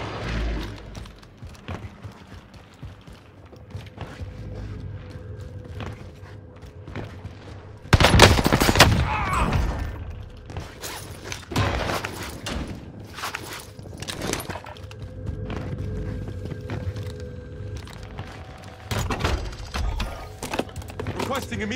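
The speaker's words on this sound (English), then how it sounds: "Calling an airstrike for me." An airstrike lands in Call of Duty Warzone, a sudden loud blast followed by several more heavy bursts and crackles, with gunfire and game sounds in between.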